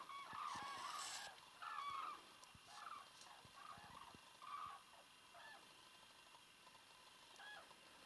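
Flock of birds flying in a wedge formation overhead, calling in short honking bursts that come and go, faint against an open outdoor backdrop.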